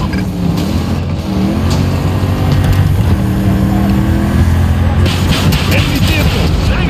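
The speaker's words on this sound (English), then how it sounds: "Spotted a hostile tank!" A hostile tank engine in Battlefield 2042 rumbles low and steady throughout, with shifting droning tones under loud battle noise and spoken radio-style callouts.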